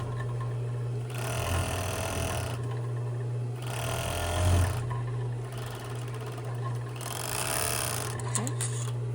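A sewing machine stitches a slit in a dress. Three separate bursts of rapid, close mechanical whirring each run for a second or two, with a low steady hum between them and faint handling noises at the end.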